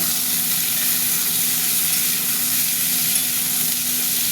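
Potatoes and green peas fry in oil in a wok, a dense, steady sizzle filling the whole stretch with no voices.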